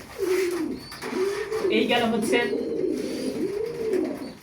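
Racing pigeons coo close by in soft, rolling, repeated calls while someone talks over them.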